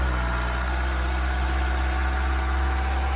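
An LDV G10 van engine runs steadily with a deep, constant drone and rich low harmonics, holding an even loud tone throughout with no clear rise in revs.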